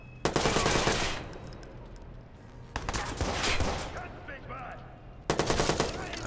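Bursts of rapid automatic gunfire in the video game Watch Dogs, three loud sustained volleys separated by brief lulls.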